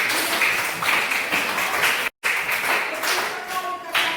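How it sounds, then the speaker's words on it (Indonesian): Classroom clapping for a group of high school students, a steady patter of many hands lasting about four seconds with a brief break midway. "tepuk tangan dulu untuk kelompok anak"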